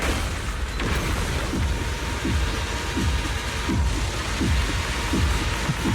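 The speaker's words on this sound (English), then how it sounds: "be washed away by the great rain!" Great rain attack in a video game: a dense hissing downpour under a run of repeated deep booming impacts, roughly two per second, loud and steady throughout with no talk.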